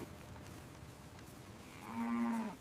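A dairy cow on a farm gives a single drawn-out moo in the middle distance, rising over a quiet outdoor background of faint ambient noise.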